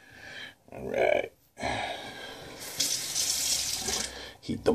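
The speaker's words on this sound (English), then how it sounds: "Heat the blade up a little with some hot water." Hot water runs from a bathroom tap into a sink to warm a straight razor blade before shaving, a steady hissing gush that stops and restarts with brief gaps, fairly close and moderately quiet.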